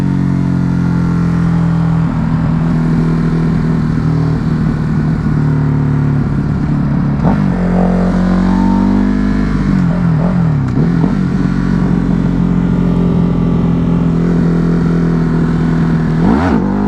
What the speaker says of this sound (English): I'm gonna come over here and do a wheelie down this service road